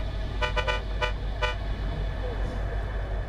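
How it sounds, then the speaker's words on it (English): Car horn in the video game Cyberpunk 2077, four short blasts, the first three bunched quickly and the last after a pause, loud over a low engine idle. "Should we honk a few times?"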